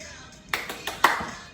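A few quick, sharp hand claps, about three to four in a rapid burst, sound faintly between tossing and catching a ball indoors.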